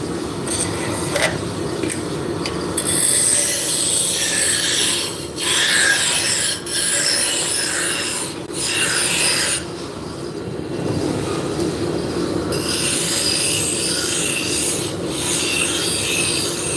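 Wood turning on a lathe is sanded, giving a continuous close rasping and scratching with brief dips and pauses over about seventeen seconds.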